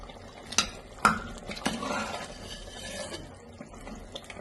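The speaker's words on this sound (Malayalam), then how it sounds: "ഇനി ഇത് ഇളക്കി ചേർത്ത് നമുക്ക് ലോക്ക് ചെയ്യാം." Mutton curry masala is stirred in a pan, with a few sharp spoon knocks against the metal followed by softer scraping and a gentle sizzle close by.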